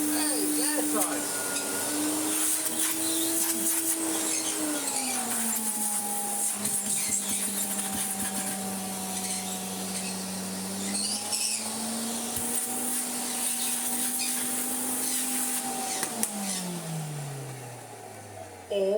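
A Hoover Sensotronic Total System 40 vacuum cleaner runs steadily with its repaired hose fitted, a loud continuous motor whine whose pitch sags and shifts as airflow changes, then winds down near the end.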